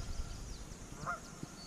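A goose honks once at a distance over a low, steady outdoor hum by a lake, with faint rustling around it.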